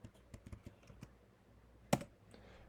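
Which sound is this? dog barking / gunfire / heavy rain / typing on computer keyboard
typing on computer keyboard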